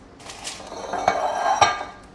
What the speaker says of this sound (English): I'm going to use a measuring cup just to evenly distribute the batter between the pans